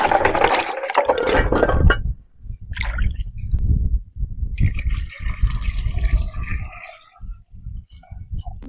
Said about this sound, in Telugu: చింతకాయలు నీట్ గా అయితే కడుక్కుందాము